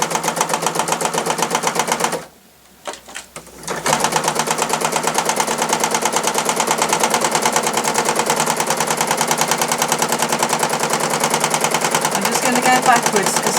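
A sewing machine doing free-motion embroidery stitches in a rapid, loud, steady mechanical chatter. It stops briefly near the start, then runs continuously to the end.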